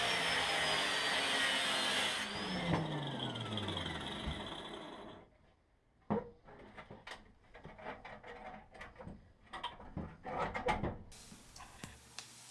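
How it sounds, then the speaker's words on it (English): Cutting away the old right-angle flange on a car front wheel arch: a high whining cutting tool runs for a few seconds, then stops, followed by scattered metallic taps and clunks at close range. "Now I'm cutting off all of the old right angle flange before fitting a repair piece each"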